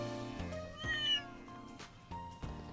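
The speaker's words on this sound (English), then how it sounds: "A cat?" A cat meows once in Trails in the Sky, a short rising-falling mew heard clearly over the game's background music.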